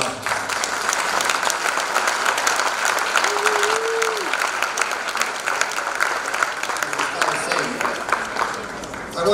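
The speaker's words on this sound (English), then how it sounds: "Can I get applause?" Sustained audience applause in a banquet hall at a Macedonian tribute ball, greeting the President of the Republic of Macedonia: a dense, even roar of many hands clapping for about nine seconds, with a brief voice faintly audible partway through.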